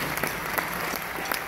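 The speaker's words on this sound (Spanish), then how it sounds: "Hay que darle un aplauso" Steady audience applause fills a theatre during a Spanish-language concert album presentation, a dense continuous patter of many hands at moderate level with no voices over it.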